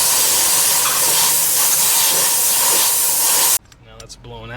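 Compressed air blasts loudly and steadily through a 2007 Honda CR-V exhaust manifold in a continuous close hiss for a few seconds, then cuts off abruptly, leaving quieter background sounds.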